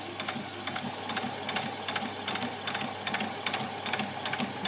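Sewing machine stitching close along a fabric edge while sewing a child's dress, a steady rapid mechanical whir with rhythmic needle clatter running continuously at close range.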